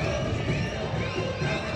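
Home supporters at a football stadium applauding and cheering a won ball during an Argentine Torneo Federal A match, a steady distant crowd roar with clapping mixed in.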